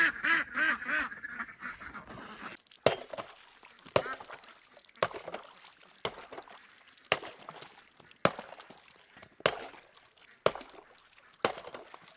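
Geese at a frozen farm water trough give a short burst of honking, then about ten sharp, evenly spaced chopping knocks follow as the ice is broken, with quiet rustling between them.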